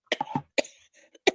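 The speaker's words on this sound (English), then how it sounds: "I'm coughing" Several short, sharp coughs from a person at close range, clustered in a quick burst and then one more after a brief pause, with no talk over them.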